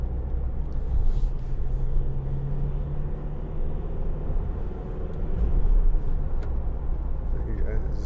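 Interior of a 2019 Ford Transit Custom 2.0 EcoBlue diesel van driving loaded, a steady low engine and road rumble that dips and rises as it changes gear, with someone talking over it.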